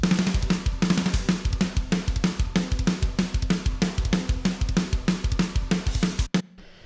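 A full drum kit from the paid edition of the KRIMH drum library plays a fast, driving metal-style groove, with dense repeated kick hits, snare and cymbals for several seconds before stopping abruptly.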